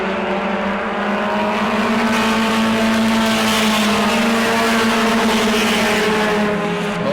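Bomber-class race cars in a heat race at New Smyrna, running single file with a loud, continuous engine roar that holds steady with slight pitch sweeps as they pass.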